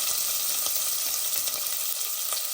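Onion and garlic fry together in a pan for a country chicken jhol, giving a steady, dense, close-up sizzle that holds evenly throughout with no voices.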